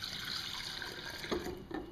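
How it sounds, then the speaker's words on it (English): Honey and apple cider vinegar drink mix is poured from a cup into a container, a steady liquid trickle with a few soft splashes and clinks near the end, with no talking. "And then we'll go ahead and pour it in"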